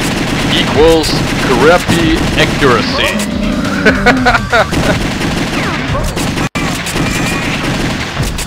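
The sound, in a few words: handgun rapid gunfire in video game The House of the Dead 2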